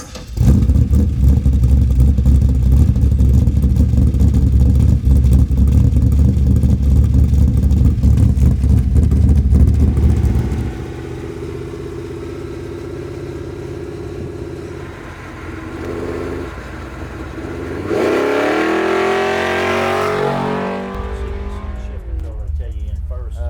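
A garage-built 1964 Ford Fairlane with a 500hp small block engine, its loud low engine rumble steady and heavy at first, then easing to a quieter cruising drone with a brief rise in revs near the end, with voices talking over it.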